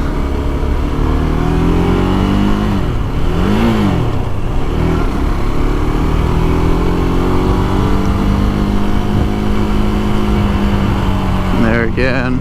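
A KTM RC 390 motorcycle's engine revs loudly while riding, its pitch rising and falling through gear changes with steady wind rush, and a rider talking over it.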